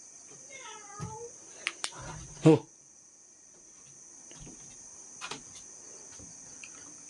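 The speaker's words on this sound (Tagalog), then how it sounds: "Parang pusa yun mga idol ah." A faint, drawn-out meow rises and falls early on, followed by a few sharp knocks amid a steady high insect-like hum.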